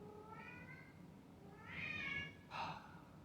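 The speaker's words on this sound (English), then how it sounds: "Cats, man." Cat meowing alone, a few drawn-out harmonic cries in sequence, the later ones louder and closer, with no talking over them.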